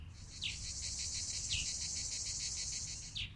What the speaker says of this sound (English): Cicadas hummed.